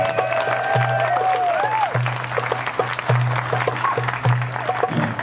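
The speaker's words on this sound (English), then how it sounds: "let's give a round of applause for the Florida panther." An audience at an Earth Day puppetry show applauds for a Florida panther, a dense wash of clapping that runs throughout, with a steady low hum and brief whistle-like tones above it.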